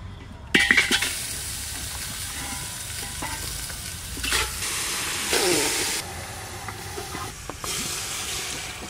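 Meat dropped into a hot cooking pot over a home stove sizzles and hisses loudly, with stirring and the scrape of a utensil against the pot, plus a few brief clanks.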